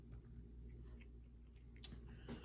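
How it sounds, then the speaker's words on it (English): Someone chews Milk Duds chocolate caramel candy, producing soft, sticky, squishy mastication sounds very close and quiet, without talk. "I'm still chewing these milk duds"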